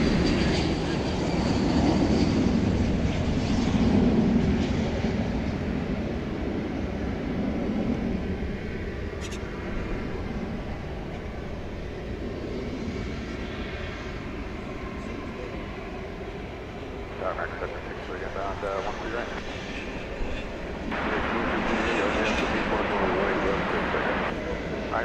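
An American Airlines jet takes off at night at DFW Airport, a distant, steady low roar rumbling on throughout, with people talking over it.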